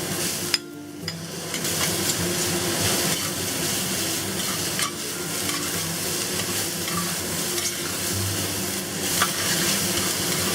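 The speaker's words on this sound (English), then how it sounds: "stir fry this for about 30 seconds until your onions soften up" Pressed bean curd, onions and shredded pork stir-fry in a hot pan with a constant loud sizzle, broken by occasional scrapes and taps of the spatula against the pan.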